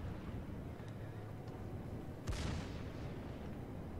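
Secondary artillery on the warship HMS Warspite in World of Warships fires a single sharp, booming shot partway through, above a steady low sea and engine rumble, with faint distant reports before it.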